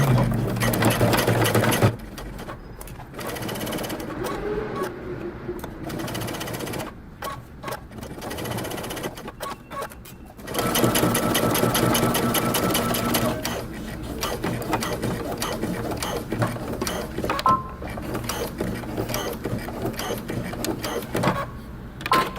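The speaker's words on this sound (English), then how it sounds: "I'm going to stitch all the way around the edge of my pocket" A sewing machine stitches around the edge of a jeans pocket in several runs of fast, rhythmic whirring, stopping and starting with pauses for fabric handling in between.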